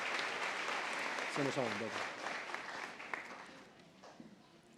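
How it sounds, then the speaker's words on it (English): Applause fills a convocation hall as the associate dean walks up, steady clapping that gradually thins, with a voice calling out briefly over it. "Just give him a round of applause as he comes up, guys."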